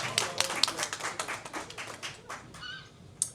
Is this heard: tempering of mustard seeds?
no